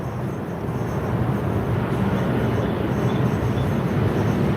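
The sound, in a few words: airplanes flying overhead near an airport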